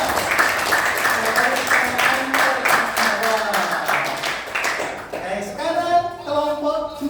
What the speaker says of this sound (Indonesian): Silakan aplaus kelompok 3.